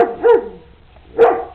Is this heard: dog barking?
yes